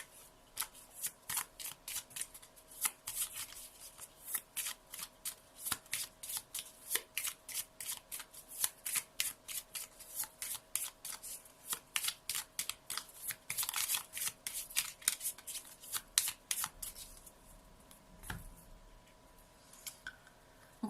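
Lenormand oracle cards being shuffled by hand, a long run of quick, crisp riffling flicks in uneven bursts, close and fairly quiet, with no voices.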